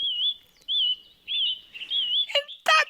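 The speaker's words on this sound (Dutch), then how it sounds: "En dat is het vogeltje." A small bird chirps in repeated warbling high-pitched phrases, close and clear, followed by a couple of brief other sounds at the end.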